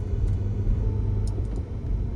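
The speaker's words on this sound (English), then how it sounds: "I am driving right now." Car being driven, heard from inside the cabin: a steady low engine and road rumble with a few faint clicks and rattles, continuous and moderately loud.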